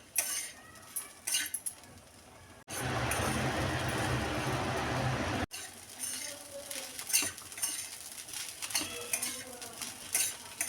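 Sago khichdi is stirred in a pan with steady scraping and soft clinking, broken by a few seconds of louder, dense sizzling and rushing noise before the spoon scraping resumes, close and alone.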